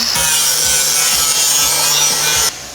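Metal pieces being cut to fit for a Santa Maria grill at a welding competition, a loud continuous rasping saw-like grind with a steady rhythmic stroke pattern that cuts off abruptly near the end.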